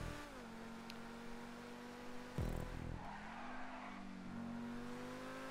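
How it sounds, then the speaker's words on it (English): A car in a video game drifts around a turn, its engine droning steadily, then a sharp burst of tire squeal and skidding partway through before the engine note climbs again, moderately loud with no talk. "Drift around the turn!"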